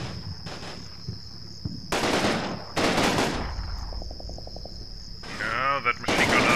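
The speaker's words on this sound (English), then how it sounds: "that machine gun is a bit annoying" Machine gun fire in the Combat Mission Red Thunder war game comes in loud broadband bursts of several seconds each, with a quieter rapid rattle between them, over a constant high whine and low rumble of battle.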